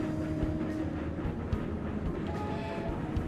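An iron train rolls slowly along the track in the Railroad Corporation 2 video game, a continuous low rumble with faint intermittent clicks and no talk.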